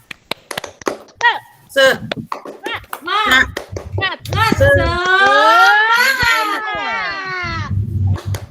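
A class of children clap in a quick rhythm and chant together, their voices rising into a sustained shout, with a teacher's voice speaking in between.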